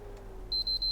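Three short, high-pitched electronic error beeps from a game console showing the yellow light of death, in quick succession over a low steady hum, clear and close.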